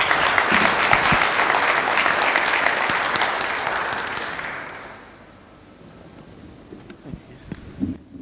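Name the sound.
audience applause for the panelists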